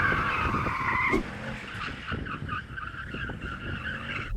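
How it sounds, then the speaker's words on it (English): A BMW M8 Gran Coupe in two-wheel-drive mode skids, its tyres squealing in a loud, sustained screech over engine roar, then easing into rougher, pulsing scrubbing and engine noise. "Then you can do some skids."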